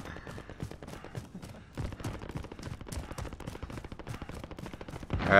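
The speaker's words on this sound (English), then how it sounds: "And those gunshots are coming from our supply box" Rapid automatic gunfire from the battle royale video game Call of Duty: Warzone, a dense, continuous rattle of overlapping shots with steady rhythm, moderately loud and without talk.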